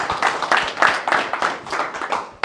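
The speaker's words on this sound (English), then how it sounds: "And we should clap." A small group of listeners at a physics meeting claps briefly, a light cluster of hand claps in quick succession at moderate volume, tapering off after a couple of seconds.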